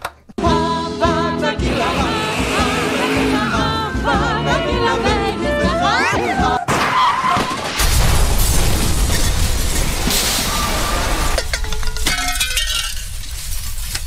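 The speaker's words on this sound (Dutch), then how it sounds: "De uit elkaar spattende bus." A staged explosion of a bus for a radio comedy unfolds as a long, loud sound-effect sequence: a booming blast, shattering glass and clinking debris, then rumbling aftermath, with no talk.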